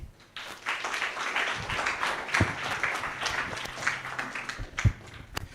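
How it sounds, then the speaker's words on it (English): Audience applause at a university innovation week session, a steady wash of clapping filling the room for several seconds, with a few sharper individual claps and faint voices underneath. "A round of applause."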